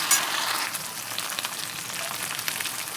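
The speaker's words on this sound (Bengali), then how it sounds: "আদা রসুনের পেস্টটা দিয়ে একটুখানি কষিয়ে নেব" Ginger garlic paste frying with onions in a pan for a soybean and sesame dish, giving a steady, close sizzle with a soft crackle throughout and no voices.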